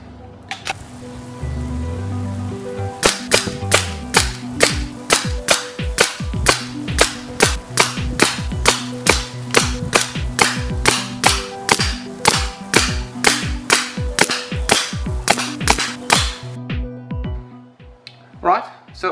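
A high-power .177 air rifle fires a long series of shots in fairly regular succession, each a sharp, close crack with a brief tail, following a short stretch of mechanical handling.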